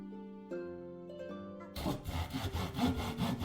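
A short musical chime plays, then rhythmic back-and-forth sawing of a tree follows in the video game The Settlings, repeated strokes at a steady pace, fairly close and clear.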